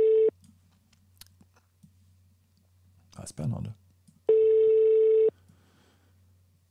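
Telephone tone heard while a call is placed, two steady beeps, one at the start and a longer one later, separated by quiet and a brief burst of voice.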